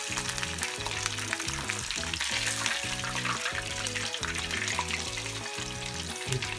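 Japanese karaage fried chicken deep-frying in hot oil gives a continuous bright hiss and crackle under steady background music with a stepped melody, and no one speaks.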